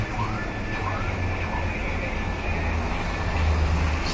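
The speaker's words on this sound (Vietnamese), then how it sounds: "Xe tải và chiếc xe ô tô đang đua nhau." A truck and a car drive along a city street side by side, giving a steady low traffic rumble that swells slightly near the end, with no clear talk.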